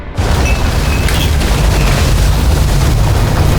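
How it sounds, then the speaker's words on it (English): Fuses blowing in the video game Nobody Wants to Die: a sudden loud boom that gives way to a heavy, sustained low rumble, with no speech. "The fuses just blew."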